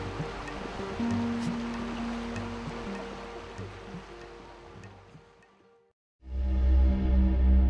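River rapids roar in a constant broad rush of churning water, fading briefly into near silence before surging back loud and close.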